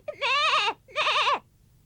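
A cartoon goat bleats twice in quick succession, each a loud, wavering, drawn-out call heard alone.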